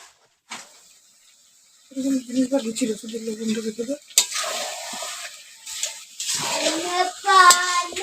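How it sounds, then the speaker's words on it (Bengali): Meat cooking in a pan over a village hearth, stirred with scraping and clattering strokes amid steady sizzling, starting after a quiet opening and growing louder near the end, with a voice heard briefly in the middle. "এখন দেখো মাংস রান্না চলছে"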